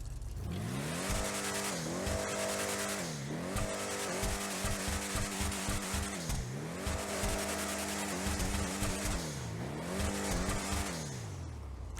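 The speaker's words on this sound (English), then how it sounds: "You can hear the turbos like spooling as well, which is pretty neat." A loud racing engine of the Vapid Desert Raid truck in GTA Online revs up and down repeatedly, with turbo spooling whine and sharp blow-off chatter between shifts, steady and close.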